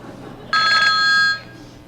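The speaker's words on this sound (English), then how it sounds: "On the phone is his sidekick, Cato, calling from police headquarters." A loud telephone bell rings in one sustained burst of about a second, close and clear, in a stage skit at a high school chorus USO show, with a low room hum around it.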